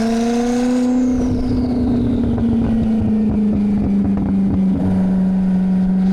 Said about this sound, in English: Exhaust sounds good. It's quite loud, isn't it?